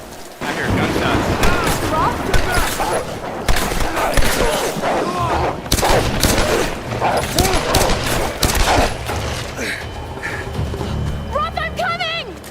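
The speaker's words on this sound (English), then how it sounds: "I hear gunshots." Bursts of rapid gunfire and explosions from a video game, dense and loud, with voices and shouting mixed in throughout.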